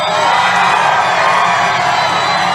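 A big rally crowd cheers for Donald Trump, a dense, loud, unbroken roar of shouts and whoops held steady the whole time, with no single voice standing out.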